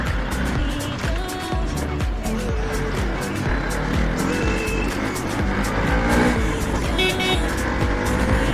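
Road traffic heard from a moving motorbike filtering through vehicles: continuous engine drone and wind rush, with passing cars and brief horn toots mixed in.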